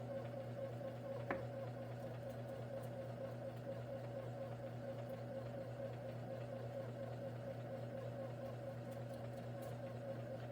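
A bread machine kneads rolls dough in a steady, low electric motor drone with a faint mechanical whir, constant and unbroken, with one small knock early on.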